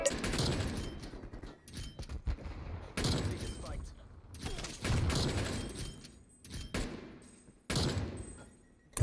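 Gunfire from the video game Black Ops Cold War comes in several loud bursts of rapid shots separated by quieter gaps, with someone talking at times between them.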